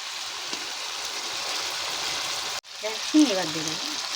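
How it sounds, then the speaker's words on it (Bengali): Chicken being sautéed for Bengali chicken kosha in a frying pan gives a steady broadband sizzle, briefly cut off, then resuming with a voice speaking over it. "চিকেনটাকে আমরা খুব ভালো করে কষবো"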